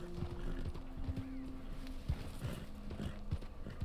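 A horse in the Red Dead Online game clip-clops steadily through fog, its hoofbeats close and regular at a riding pace, with faint background sound.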